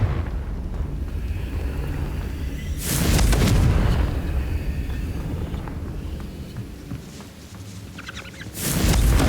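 Fire spell explosions in Hogwarts Legacy, a Confringo blast bursting loudly near second three and another near second nine, each a broad roaring boom over a steady rumbling game backdrop.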